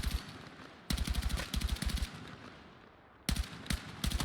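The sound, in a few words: tap-firing gunshots in the video game Battlefield 6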